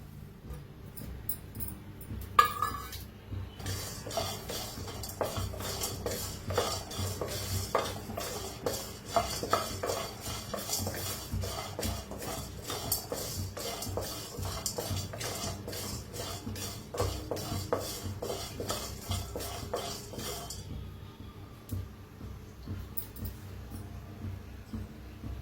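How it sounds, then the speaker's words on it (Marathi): Sesame, garlic and coriander seeds are dry roasted in a pan for a green masala egg curry, with a steady patter of scraping and stirring against the metal and faint crackling throughout. "तर आपण हे पहिलं भाजून घेऊया मसाले।"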